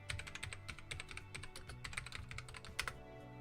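Rapid, quiet clicking keystrokes on a computer keyboard, irregular bursts of taps close up over a faint steady background hum, with no voices.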